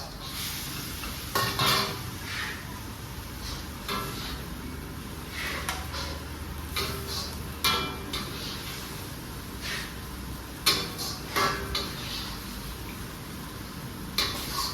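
Cooking in an iron wok for a stir-fry, with repeated metallic scrapes and clanks of a utensil against the pan over a low background, close and fairly loud in short bursts.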